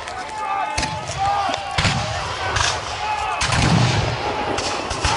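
Black-powder musket fire rings out across an open field at an American Revolution reenactment battle, several loud close shots and scattered distant pops mixed with shouting voices.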